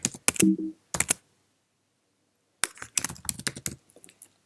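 Keys clatter on a Mac keyboard as a terminal command is typed, in two quick bursts of close, crisp clicks separated by a pause.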